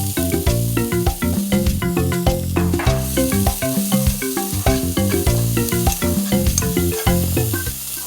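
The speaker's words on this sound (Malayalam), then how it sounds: "ഇനി നമുക്ക് 1 സവോള ഇതുപോലെ ചെറുതായിട്ട് ചോപ്പ് ചെയ്തത് ചേർത്ത് കൊടുക്കാം." Chopped onion frying in a pan for homemade egg kebabs gives a loud, steady sizzle with bursts of stirring throughout, and tonal sounds run alongside it.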